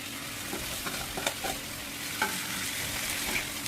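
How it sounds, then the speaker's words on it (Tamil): Mutton boti pepper fry sizzles steadily in a pan while a utensil stirs and scrapes through the meat in irregular strokes, at moderate volume with no voices. "இதை கொஞ்சம் டீப் ஃப்ரை பண்ணுவோம்"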